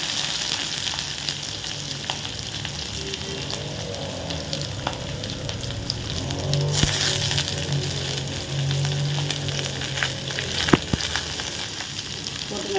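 Fennel seeds, curry leaves and green chili sizzle and fry steadily in a hot pan, a continuous crackling hiss with occasional stirring scrapes and small clinks, no talk.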